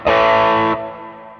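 A distorted chord from a custom shop Stratocaster through a '57 Twin, run through a Line 6 HX Effects unit with reverb, sounds loud and sustained, then stops and leaves a soft reverberant tail.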